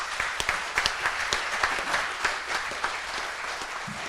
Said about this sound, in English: Please, one more round of applause to all our panelists.